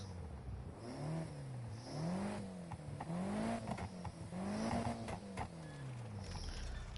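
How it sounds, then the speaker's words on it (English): A car engine with a big aftermarket exhaust idles and revs, its low pitch rising and falling in several slow swells over steady background rumble, with no talking. "Sorry, I had to quickly start the engine there to hear the exhaust."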